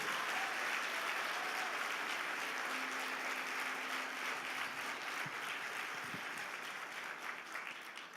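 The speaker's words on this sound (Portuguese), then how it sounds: "Dê um aplauso bem forte a Ele." A church congregation at a Sunday service applauds loudly and steadily, a dense wash of clapping that holds strong before thinning slightly toward the end, with a faint sustained tone and a brief voice underneath.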